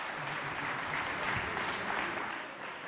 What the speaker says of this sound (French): Applaudissez bien fort.